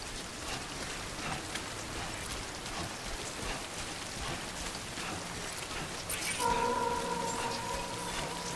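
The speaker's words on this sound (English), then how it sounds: "So I'm guessing the rain will conveniently stop in a moment." Steady rain pours down in the video game Death Stranding, a dense, even hiss of drops on surfaces that holds throughout, joined near the end by a faint tonal hum in the background.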